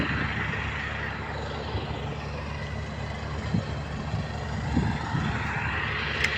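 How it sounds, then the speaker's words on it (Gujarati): A heavy tractor engine drones continuously at a steady, fairly close level on a farm, with faint clanks here and there and no voices. "મારા રાજુ મામા જો ટ્રેક્ટર લઈને આવે છે."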